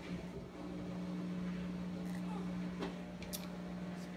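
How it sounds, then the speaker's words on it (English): A washing machine runs steadily in the background of a home, its continuous low motor hum droning under soft room noise with a few faint clicks. "Sorry for the noise. I'm washing clothes."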